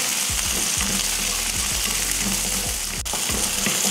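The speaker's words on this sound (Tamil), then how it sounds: "இந்த அளவுக்கு வதங்கினதுக்கப்புறமா பச்சை மிளகாய் 4, கொஞ்சமாக புளி, இதையும் சேர்த்து நல்லா வதக்கிடுவோம்." Onion, four green chilies and a little tamarind sautéing in a pan for chutney: loud, steady close-up sizzling with a quick run of stirring knocks and scrapes, and no talk.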